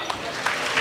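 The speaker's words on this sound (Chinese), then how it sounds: "大家也来个掌声好不好？" Brief burst of audience applause at the COSCUP 2015 open-source conference closing ceremony, a steady wash of clapping from the hall with no voice over it.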